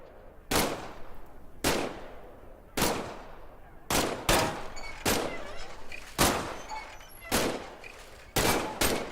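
Pistol shots in the video game Medal of Honor: Above and Beyond, with about nine loud, sharp reports fired at a slow, fairly regular pace, each followed by a short decaying tail over faint background ambience.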